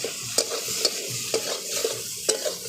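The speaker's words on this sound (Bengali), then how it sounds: "পরিমাণ মতো হলুদ দিয়ে দিলাম, একটু নাড়াচাড়া করে দেব।" Eggplant pieces with turmeric stirred in a frying pan, with a soft steady sizzle and repeated scraping, clacking strokes of a spatula every half second or so, close and clear with no talking.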